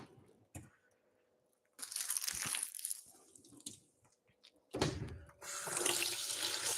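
A kitchen sink faucet runs in bursts while raw chicken is washed, water splashing and gushing on and off with brief handling crunches between, close and moderately quiet with no speech.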